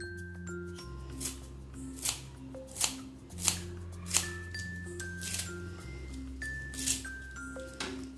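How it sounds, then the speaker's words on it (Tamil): Knife chopping onion, carrot and capsicum finely on a board, with crisp cuts landing roughly once a second over a steady low background hum, close and fairly quiet. "ஸோ நல்லா ஃபைனாக வந்து சாப் பண்ணி எடுத்துக்கணும்."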